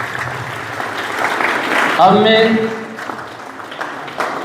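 Loud applause from an audience at a school event fills the clip, a dense wash of clapping with a voice speaking over it at the start and end.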